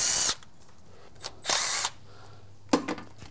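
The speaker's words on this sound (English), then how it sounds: "I'll go around and remove all the bolts except for 2 in the front and 2 in the back" Impact tool or power drill spinning out bolts on a transmission pan of a Cummins-equipped truck with a 47RE/48RE automatic, three short loud whirring bursts separated by quiet gaps, with no talking.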